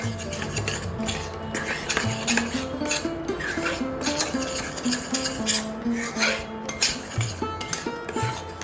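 Gram flour (besan) roasting in two spoons of oil in a pan for Maharashtrian gulpoli, with steady scraping and stirring against the pan and occasional metal clinks, close and continuous without speech.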